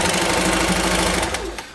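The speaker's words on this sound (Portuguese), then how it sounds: "eu venho fazendo uma costurinha bem na beiradinha em toda a volta." A sewing machine stitches bias binding along the edge of a fabric makeup pouch, running as a steady, fast mechanical whir for the whole stretch, close and fairly loud.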